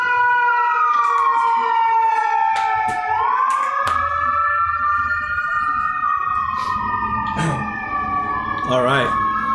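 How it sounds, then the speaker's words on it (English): An ambulance siren wails loudly, sweeping up and down in pitch as it passes nearby in New York City, with city noise and a brief voice underneath. "Let me let this ambulance pass."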